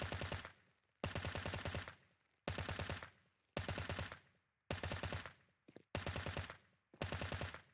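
Silenced M4A1 in the Counter-Strike video game firing seven short, loud spray bursts in a steady rhythm, each a rapid string of suppressed shots separated by brief gaps.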